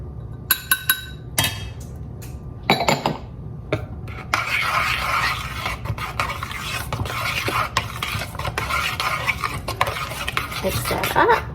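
A utensil stirs flour into a thick pureed carrot soufflé batter in a bowl, opening with a few sharp clinks against the rim, then settling into continuous close scraping and mixing noises.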